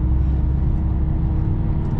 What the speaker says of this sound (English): This is an E-Class Mercedes from 2010